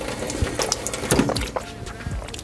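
A school water fountain runs in short, uneven bursts of splashing stream, close by and fairly quiet, the flow starting and stopping several times within a couple of seconds.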